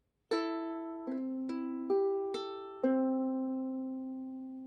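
Acoustic guitar fingerpicked in a thumb-index-middle pattern, about six clear plucked notes in a slow, even rhythm, each ringing out, close and alone.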